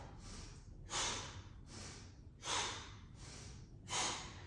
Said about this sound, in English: Blow the air out.